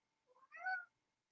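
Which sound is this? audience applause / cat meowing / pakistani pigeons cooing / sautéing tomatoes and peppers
cat meowing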